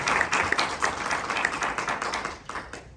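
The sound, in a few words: audience applause for Gerardo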